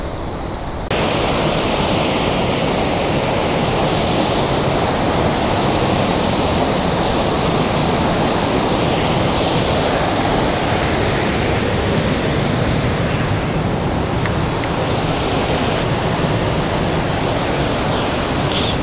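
Steady, full roar of Aasleagh Falls, a dense broadband rush of falling water that stays constant and loud throughout, with no voices.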